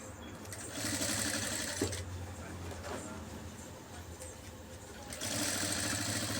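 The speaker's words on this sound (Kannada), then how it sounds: "ಇವಾಗ ಇದ್ರ ಮೇಲೆ ಒಂದು ಸ್ಟಿಚ್ ಹಾಕ್ಕೋಬೋದು ಬೇಕಿದ್ರೆ" A sewing machine stitches a red embroidered blouse with a steady, close, loud motor whir and rapid needle chatter. It runs almost continuously, with a brief dip partway through and a surge again near the end.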